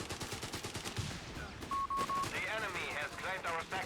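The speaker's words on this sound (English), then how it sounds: "Heavy machine guns pinning down squads all over the place." Heavy machine guns fire rapid, rattling bursts in the strategy game Company of Heroes 3, mixed with other battle sounds while a commentator talks over the action.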